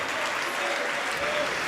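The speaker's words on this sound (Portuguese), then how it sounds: "E vamos aplaudir ao Senhor Jesus por cada vida que está chegando." A church congregation at a televised service claps together in dense, sustained applause that stays even and loud throughout the short stretch.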